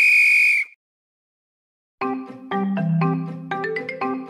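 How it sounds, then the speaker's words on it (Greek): A toy train whistle in a Greek phonological awareness game gives a sharp, steady high toot, then silence, then a rapid run of bright chiming electronic tones in quick steps. "Μετά πατάμε τη σφυρίχτρα για να φύγει το τρένο."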